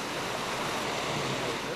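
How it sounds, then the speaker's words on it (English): Waterfall about 20 metres high, heard from its edge as a steady, dense rushing roar of falling water, continuous and fairly close. "The waterfall is around 20 metres high, but that looks a long way down when you're perched on the edge."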